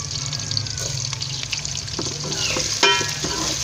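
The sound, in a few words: whole garam masala frying with browned onions in a pan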